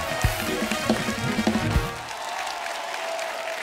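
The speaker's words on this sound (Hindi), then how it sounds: "इनके लिए जोरदार ताली हो जाए।" Studio audience applause on a Hindi comedy talk show, The Kapil Sharma Show; a voice talks over the first two seconds, then steady clapping carries on alone at moderate volume.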